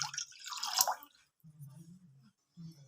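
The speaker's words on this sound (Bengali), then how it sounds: "কড়াতে দেব স্টিলের বাটি মেপে 1 বাটি জল।" Water is poured from a steel bowl into a pan set on a gas stove: a short, bright splash and gurgle at the start, then softer low trickling and dripping that fade in and out.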